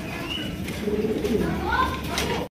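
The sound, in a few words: pigeons cooing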